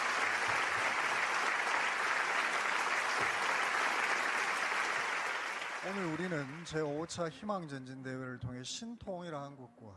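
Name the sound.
audience applauding and cheering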